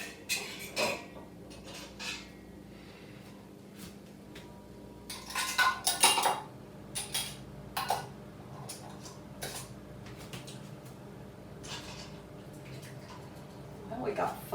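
Metal canning lids being placed on jars of sweet pickles, scattered clinks and taps of metal on glass, with a busier cluster of clatter midway, close and clear.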